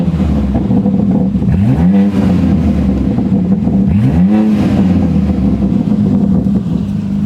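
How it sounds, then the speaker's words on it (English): A BMW G80 M3 in M mode idles loudly on a warm day, then gives two short, light revs, one near the start and one midway, each rising and falling back to a rumbling idle. "let's put it in M mode. It is a warm day. We're gonna do some baby revs"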